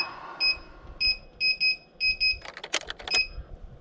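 An oven control panel gives a series of short, high electronic beeps in pairs and singles, close and clear, followed by a brief burst of rattling clatter.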